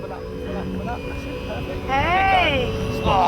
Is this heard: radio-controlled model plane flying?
yes